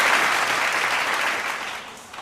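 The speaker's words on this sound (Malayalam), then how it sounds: "നല്ല കൈയടി കൊടുത്തേ." Audience applauding at a church parish meet quiz, a dense burst of clapping from many people that fades slightly toward the end, heard alone without talk.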